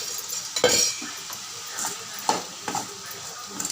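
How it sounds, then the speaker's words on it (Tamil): A spoon stirs beetroot stir-fry in a pan on a home stove in a series of short, soft scraping strokes over a faint sizzle, close and moderately loud, with no talking. "நல்லா கிண்டி விட்டுக்கோங்க."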